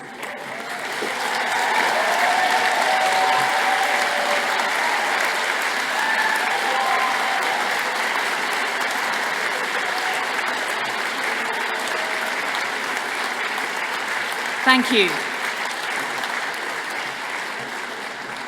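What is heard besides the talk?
graduation audience standing applause and cheering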